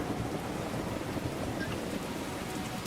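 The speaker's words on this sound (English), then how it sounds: "What a storm." Heavy rain from a thunderstorm in the train simulator game Derail Valley, a steady dense hiss of rainfall with low rumbling underneath, continuous and loud with no voices.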